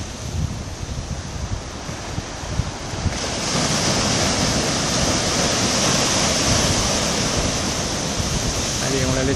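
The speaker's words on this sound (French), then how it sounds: "Une dernière petite vague." Ocean waves rolling and breaking along the shore of Reunion Island at sunset, a continuous loud wash of surf with wind noise that swells fuller after the first few seconds, with no voices over it.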